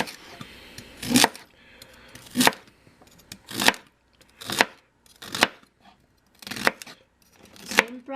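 Vegetables for turkey soup being chopped with a knife: seven sharp, crisp chops on a cutting board, spaced about a second apart, close and fairly loud, with quiet pauses between them and no talking.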